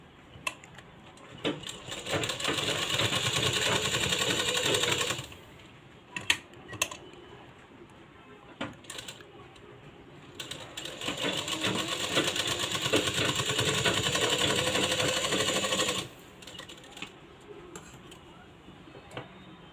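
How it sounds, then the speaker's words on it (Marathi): A sewing machine stitches a blouse seam in two long runs of fast, even whirring, separated by quieter pauses with a few clicks and handling sounds. "इथं आपण आता डबल शिलाई मारून घ्यायची आहे"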